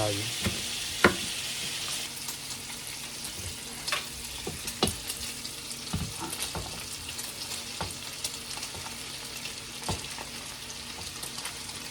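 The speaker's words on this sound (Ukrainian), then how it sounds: "Просто прожарюємо сало, додаємо тоді цибулю, можна додати халіпіньо" Pork fat (salo) and onion fry in a pan with jalapeño, a steady close sizzle and hiss broken by scattered pops and the clink of a stirring utensil.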